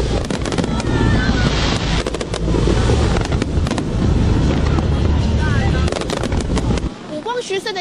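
Fireworks burst over Kaohsiung's night sky at a lantern festival rehearsal, a loud, continuous barrage of booming and crackling explosions with a voice talking over it.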